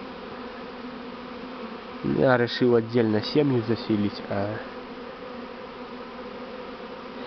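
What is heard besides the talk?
Buckfast bee swarm buzzing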